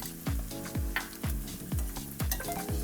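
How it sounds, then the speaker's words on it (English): Garlic sizzles in a skillet while spinach in garlic sauce is sautéed, a continuous frying crackle broken by regular soft thumps and scrapes of stirring, roughly two per second, close and with no talking. "I'm gonna place the rest of these garlic in here"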